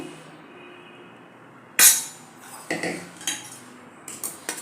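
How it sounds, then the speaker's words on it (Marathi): Cooked rice-and-semolina flour dough is scraped from a pan onto a plate, giving a sharp metallic clatter followed by several lighter scraping knocks of utensil on metal, close and alone. "आता दोन मिनटं पीठ झाकून ठेवल्यानंतर ते एका ताटात काढून घेऊया हे बघा मी इथं असं काढून घेतलं"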